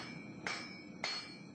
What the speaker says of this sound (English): The old-school blacksmith turned to 21st century forging techniques to hammer out a one-piece, all-steel tomahawk.